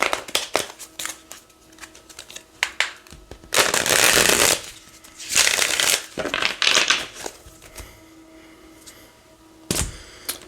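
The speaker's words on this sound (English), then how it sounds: "Let's get one more shuffle." Tarot cards being shuffled by hand: sharp taps and clicks, then several loud riffling bursts of a few seconds each, close up, with no talking.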